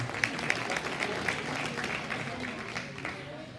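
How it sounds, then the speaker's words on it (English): Scattered applause for young exhibitors at a Yorkshire swine show class, a modest crowd clapping with a few distinct near claps, light talk mixed in underneath. "Let's give those kids a big round of applause"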